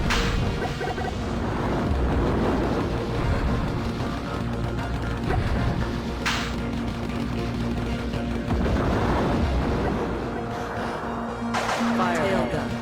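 Tail gun weapon firing in the Platypus Reclayed shoot-'em-up game, a steady stream of loud gunfire and explosion bursts layered over continuous game music, dense and unbroken throughout.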